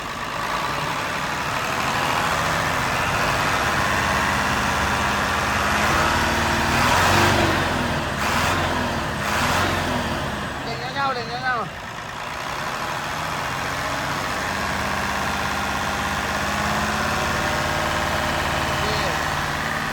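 An air-conditioned Thai bus with an eight-cylinder turbo intercooler engine idles with a steady low drone, rising briefly in a few revs, while someone talks over it nearby.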